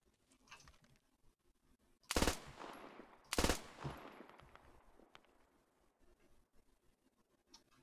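Two sharp, loud bursts of gunfire from a held trigger in the tactical shooter Squad, about a second apart, each trailing off into a long echoing decay over a quiet background.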